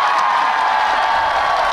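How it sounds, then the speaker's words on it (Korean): Concert audience at an outdoor strawberry festival in Nonsan, clapping steadily as a dense, continuous wash of applause with scattered cheers, loud and close throughout. "박수 한 번만 주세요"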